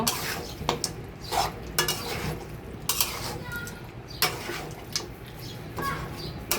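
Beef is stirred through spices in a pot for a northern Bengal beef curry with whole garlic, giving repeated scraping and clinking strokes against the metal at close range, with some faint voices in the background.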